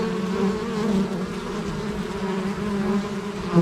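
Honeybees buzz steadily at an autumn hive carrying pollen, a dense, continuous close-up drone with no talk over it.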